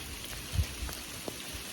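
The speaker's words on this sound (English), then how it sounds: "Wow, it's starting to sleet." Sleet of small ice pellets falling outdoors during a rare blizzard, a faint steady hiss with a few soft, scattered ticks of pellets striking nearby surfaces.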